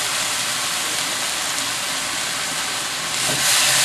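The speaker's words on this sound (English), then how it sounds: "Gonna get a quick saute." Beef sautéing in a very hot pan with soy sauce, hoisin sauce and black pepper: a loud, steady sizzle that swells slightly toward the end.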